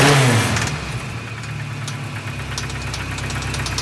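A Nissan 240SX turbo engine with a failing rod idles and revs briefly, a close mid-pitched engine note carrying a repetitive metallic knocking tap.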